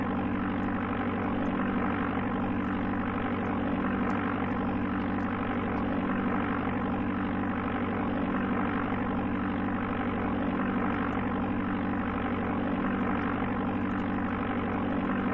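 Steady, droning single-engine aircraft hum from the Amiga game Flight Simulator II runs without a break at even loudness, a low engine tone with a broad hiss above it and no speech.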